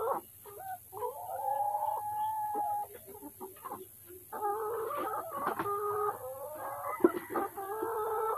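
Lohmann Brown chickens cluck and croon steadily in their coop, with a short rooster-like crow among the calls, close and moderately loud over a low hum.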